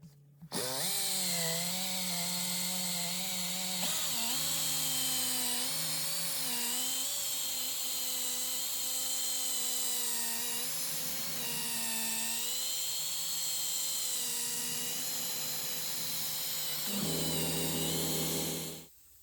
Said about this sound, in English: I'm going to use the air mop, the little teeny weeny air polisher for this.